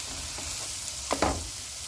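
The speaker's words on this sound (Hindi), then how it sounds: "और इसे 1 मिनट तक फ्राई करेंगे" Ginger garlic paste fries with onions in a pan for chicken kabsa, giving a steady close sizzle broken by a couple of brief stirring scrapes near the end.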